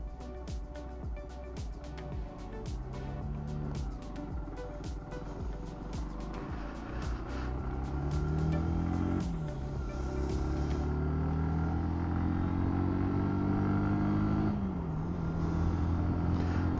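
A Zontes 125C motorcycle, fitted with a 44-tooth rear sprocket, riding fast along a road. The engine drones steadily and its pitch rises and falls as it shifts through gears, with wind rush throughout.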